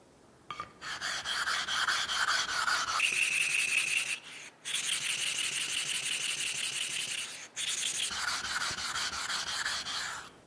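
A whetstone is pushed and turned against a 400-grit flattening stone in a woodworking shop, giving close, raspy rubbing strokes in three long passes split by brief pauses, with no voices.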